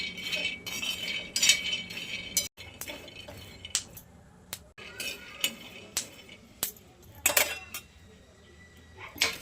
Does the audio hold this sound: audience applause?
no